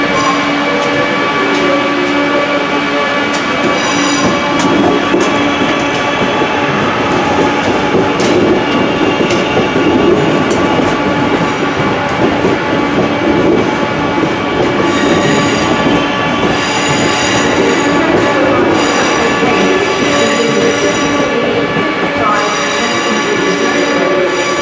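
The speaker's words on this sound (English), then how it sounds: "323 with the West Midlands Railway Service to Four Oaks." West Midlands Railway class 323 electric train passing through a Birmingham station, loud rolling rumble with rhythmic wheel clatter and squealing from the rails, close and continuous.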